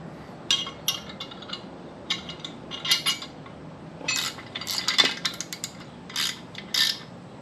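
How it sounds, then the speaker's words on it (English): Small 10mm nut and bolt hardware is fastened while mounting a Mishimoto oil cooler on a GTO, heard as faint, close metallic clicks and ratcheting taps in scattered bursts over a quiet background. "You're going to use two of these little nut and bolt combos, and they're both 10mm, and we're going to mount that right there real quick."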